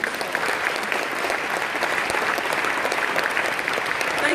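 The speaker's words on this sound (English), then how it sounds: "We love the clapping, so please feel free with the clapping." An audience claps steadily throughout a team presentation at an open house, a dense, even patter of many hands with no pauses and no speech over it.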